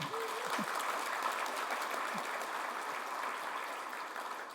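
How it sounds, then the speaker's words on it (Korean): An audience at a small and medium business leaders' forum keynote claps in a steady, moderately distant patter that holds for several seconds, with a brief voice near the start. "맞으면 박수 한번 쳐주세요."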